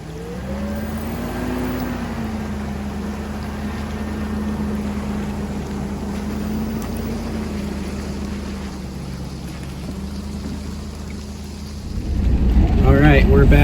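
A recreational vehicle drives down a rain-soaked road, producing a constant low engine drone and tire hiss inside the cabin that swells into a louder rush near the end.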